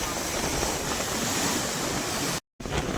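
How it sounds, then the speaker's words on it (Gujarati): Strong wind buffets the microphone while sea waves surge and roll onto the shore, a loud, continuous broadband roar broken by a brief dropout near the end. "બહુ એટલે બહુ પવન આવે છે ને તમે જોવો દરિયો અત્યારે આખો ભરાવાની તૈયારીમાં જ છે"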